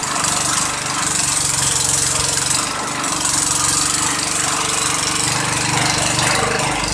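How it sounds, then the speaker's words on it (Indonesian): A motor-driven cassava grating machine grinds cassava, running continuously, loud and close, with a rough, steady mechanical roar and grinding texture throughout. "lalu singkong dimasukkan kembali ke dalam mesin parut untuk menghaluskan singkong agar tidak keras."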